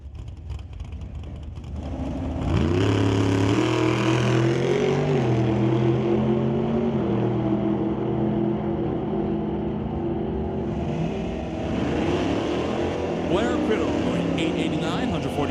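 Drag racing at Mission Raceway Park, a roadster against the Winter Harbor Machine 1969 Acadian: engines idle, then roar loudly into a sustained, rising, wavering blast as the cars launch down the strip, while an announcer talks over it.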